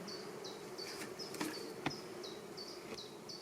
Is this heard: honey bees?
yes